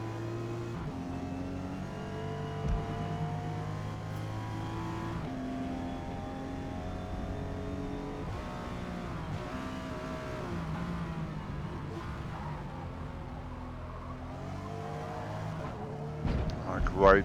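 Toyota Supra GR racing at Homestead Miami in Forza Motorsport, an engine droning and revving up and down through gear shifts under continuous commentary, with a louder burst near the end.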